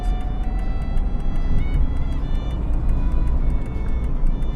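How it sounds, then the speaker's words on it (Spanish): Steady hum of an electric-converted Dodge Neon driving in second gear at about 45 km/h, with road and tire noise, a whining motor tone and regular ticking throughout, loud and continuous. "En este momento traigo el vehículo en segunda velocidad."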